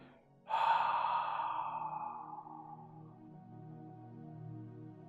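A long exhaled breath released after holding during a relaxation session, a sudden loud whooshing sigh that slowly fades into a soft sustained hum behind it, no talk.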